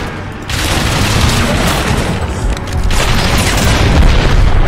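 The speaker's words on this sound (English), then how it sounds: "they're shooting up against the building now" Heavy gunfire and booming impacts strike a building in Crysis Remastered, a dense, loud, continuous barrage of shots and thuds that swells midway and keeps rolling with no break.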